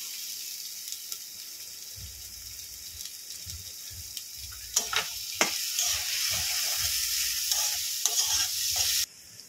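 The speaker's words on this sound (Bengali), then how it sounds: "এদিকে পেঁয়াজটা ভাজা হোক।" Two chopped onions frying in a pan with ginger and garlic, a steady close sizzle with scattered spatula scrapes and low clunks, ending with an abrupt drop as the sizzle fades out.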